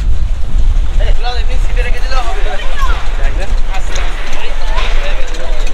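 Strong wind buffets the microphone on a boat ride to Ross Island from Port Blair, a loud constant roar with the boat's rumble and water below, while people talk over it throughout.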